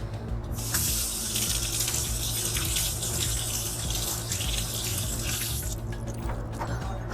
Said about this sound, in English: Rinse the filter with cool water.